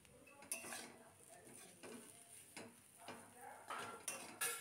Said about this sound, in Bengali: নাড়াচাড়া করে নিচ্ছি।